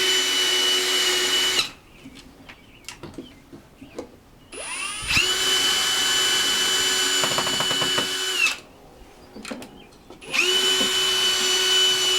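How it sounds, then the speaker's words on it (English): A cordless drill with a Phillips bit drives screws into an Everbloom plastic elevated box planter, whirring in several bursts of varying length separated by short pauses, close and fairly loud. "I recommend a bit in a drill"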